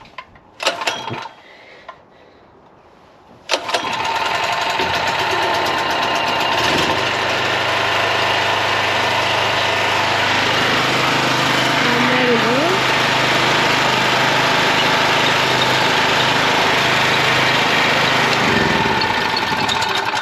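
A small generator engine running smoothly after a carburettor cleaning, starting with a sudden loud roar and settling into a steady, close, continuous drone.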